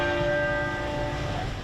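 Church bells chime for Queen Elizabeth II, a steady sustained ringing with layered tones that fills the whole moment, loud and close with no voices.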